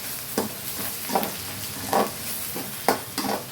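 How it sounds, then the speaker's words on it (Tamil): Sliced onions sautéing in a pan as a base for a sardine fish curry, stirred with a spatula in a series of scraping strokes roughly every second over a steady soft sizzle, close up, with no talking. "வெங்காயம் நல்லா வதங்கணும்."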